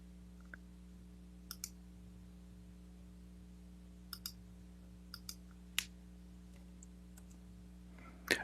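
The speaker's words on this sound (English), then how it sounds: "I will go to Google, and I will type, Jesus died on the cross for our sin." A Google search typed on a computer keyboard comes through as sparse, faint key clicks, single and paired taps spaced a second or more apart over a steady low electrical hum, with a slightly louder click cluster at the end.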